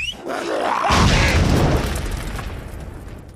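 Film explosion as zombies caught in a trap are blown up: one big, close boom with a rushing burst that rolls on and slowly decays over a few seconds.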